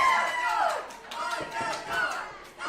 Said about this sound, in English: But they're cheering for Kazana.